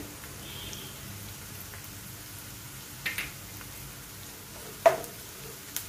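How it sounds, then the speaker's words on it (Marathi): Onions sizzling in a pan with ginger-garlic paste, a steady soft crackle and hiss throughout, with a few brief clinks or stirring knocks near the end, no talking. "कांदा व्यवस्थित फ्राय होत आहे"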